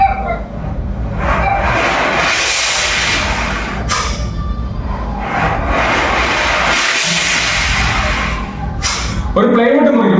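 A mimicry artist at a 2025 stage mimicry competition voices the sea, a sustained broadband rushing hiss with swelling surges and brief breaks, loud and close, ending with a short vocal sound.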